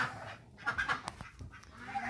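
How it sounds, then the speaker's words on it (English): Farmyard turkeys, ducks and geese calling on a homestead, a scattered chorus of clucks, gobbles and honks coming in short irregular bursts at moderate distance. "You can see it's a bunch of turkeys and ducks and geese."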